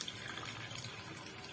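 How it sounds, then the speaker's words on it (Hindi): Water is poured steadily into a pan of spiced potato curry, producing a continuous close splashing and trickling wash that holds at an even level throughout, with no talking. "अब हम इसे स्टेज पे पानी डालेंगे जिससे ये अच्छे से सारा मसाला आलू में मिल जाएगा"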